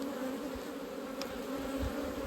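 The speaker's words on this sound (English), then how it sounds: "I'm impressed with these bees" Honey bees of a thriving mountain hive in dry heat hum steadily as a close, continuous drone, with individual bees whining past now and then.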